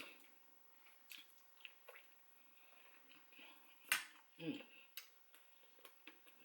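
Close-up crunchy chewing of boiled soft pork bone, with sharp irregular cracks and soft squishy bites spread across a quiet background.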